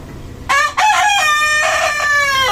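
A rooster crows loudly and close by, one long drawn-out call with a brief break near the start, ringing and harmonic, with no talking.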